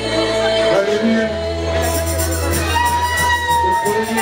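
A church wedding congregation raises loud, sustained cheering and acclamation, with whoops and shouts from many voices over a steady low tone throughout.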